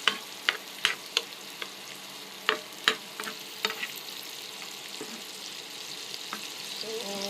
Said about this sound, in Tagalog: Igisa na natin to sa butter. Yung garlic.